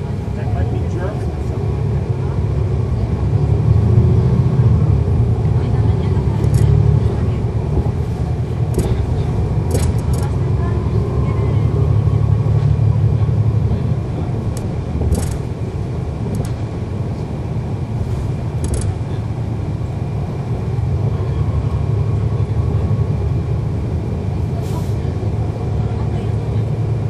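Interior of a moving NJT NABI 40-SFW transit bus, number 5903, running route 84 to North Bergen: a steady, loud low engine and road rumble continues throughout, with faint rattles and occasional clicks and people talking aboard.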